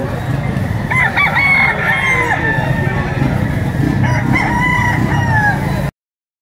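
A white Kelso gamecock rooster of Biboy lines crows loudly at close range, its long wavering calls rising and falling over a noisy outdoor background of clucks and other birds, with someone talking in between before the sound cuts off.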